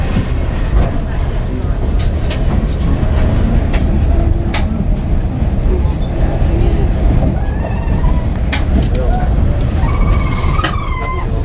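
A Dunedin Railways train in the Taieri Gorge rolls along steadily off a viaduct, with a constant loud rumble, wheel squeals and clatter, and people speaking over it.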